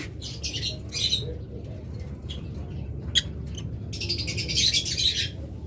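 A pair of lovebirds squawks and chirps in shrill bursts, some louder near the start and end, over a steady low background rumble with no talking.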